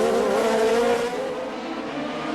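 Formula 3000 race car accelerating hard up the hill at Monaco in 2002, a loud high-pitched engine wail that climbs and then eases, with a harsh rasping edge and no commentary over it.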